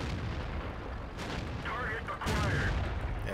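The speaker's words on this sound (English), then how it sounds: "Artillery is coming down on us," Artillery fire in the World of Tanks video game: heavy booming shell blasts and explosions rumble continuously across the clip, dense and loud, with a voice talking faintly underneath.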